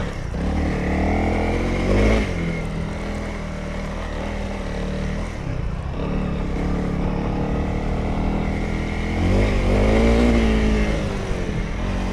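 A motocross dirt bike, Yamaha YZ450 or Honda CRF, ridden off-road over big whoops, its engine droning loudly with rising and falling revs as the bike bounds through the bumps.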